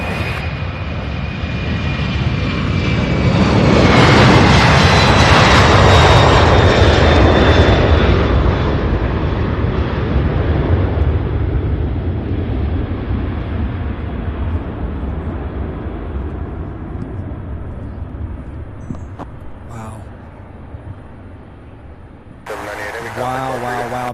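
A Boeing 767 taking off at Louisville airport: a loud jet roar swells over the first few seconds, peaks, then slowly fades into a distant rumble as it climbs away.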